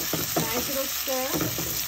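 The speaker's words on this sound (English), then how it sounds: "Nice little stir." Carrots and other vegetables frying in a pan for escovitch fish sauce are stirred, a steady loud sizzle with a few short scraping strokes; faint tonal sounds sit beneath it, without clear speech.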